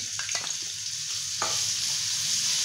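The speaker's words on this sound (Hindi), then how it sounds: "अब मैं इसके अंदर लहसुन अदरक का पेस्ट ऐड करूँगी सबसे पहले" Garlic ginger paste sizzling in hot oil in a kadai for chicken shami kabab, a loud continuous hiss with a few stirring clicks early on, heard up close.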